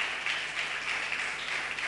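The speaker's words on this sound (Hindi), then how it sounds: "हम तालियों के साथ इनको वेलकम करते हैं" A church congregation applauds to welcome a guest, a village headman from Punjab, during a sermon: a steady, dense wash of clapping that holds at an even level for its full length.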